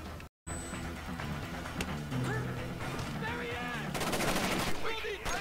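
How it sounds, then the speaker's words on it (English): Guards opening fire in Splinter Cell: Chaos Theory, a rapid clatter of gunshots layered over a low droning game score, building to a dense automatic volley near the end, with a voice shouting over it. "Incoming fire! Get down!"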